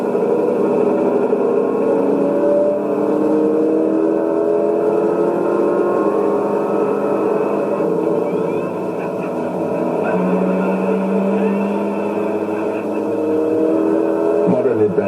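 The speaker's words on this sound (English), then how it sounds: "This existential cult favorite, directed by Richard Sarafian, is almost all chase. Cars, motorcycles, and helicopters." Cars roar through a film chase scene with sustained, loud engine drone and shifting revs over about fifteen seconds, steady and continuous with a brief pitch change midway.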